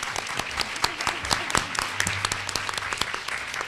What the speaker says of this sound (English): I don't always get applause for that line.